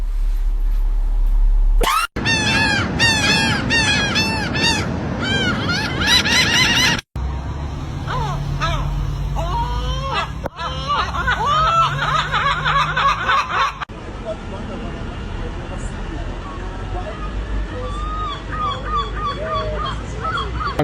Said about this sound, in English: I caught a seagull!